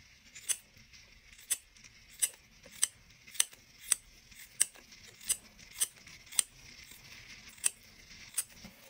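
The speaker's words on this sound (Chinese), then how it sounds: "从对折边开始剪毛刺" Scissors snip folded paper for a lotus papercut, cutting fringe from the folded edge: a dozen crisp, close metallic clicks spaced roughly every half second over a quiet background, with no voices.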